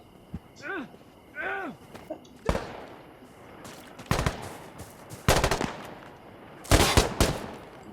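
Gunfire in the tactical shooter Insurgency Sandstorm: several sharp, loud bursts of automatic fire at irregular intervals, with voices talking over the early part.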